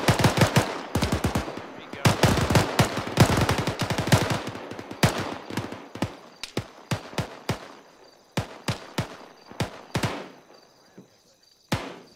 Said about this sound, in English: He in front of 2-1. He's shooting.